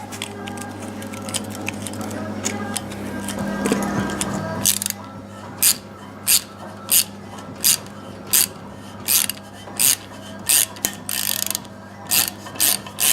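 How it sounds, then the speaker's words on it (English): An older ratchet clamp is wound tight over heat wrap on a go-kart exhaust, giving a run of sharp, evenly spaced clicks close by after a brief rubbing noise. "We cheated with the ratchet because this clamp is actually an older one"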